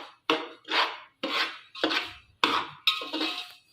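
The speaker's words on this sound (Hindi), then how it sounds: "सारी मेहनत इसकी सूजी भूनने में ही है।" Dry semolina (suji) roasting in a hot pan for laddoos is stirred in about six even rasping scrapes, each a sharp gritty sweep followed by a short pause. The scraping is close and clear, with no voices.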